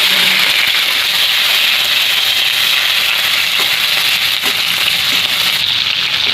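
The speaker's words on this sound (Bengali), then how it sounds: "মাছটা ভাজা হয়ে গেছে, তুলে নেব।" Peeled shrimp fry in hot mustard oil in a wok, a steady close broadband sizzle that holds loud and even throughout with no speech.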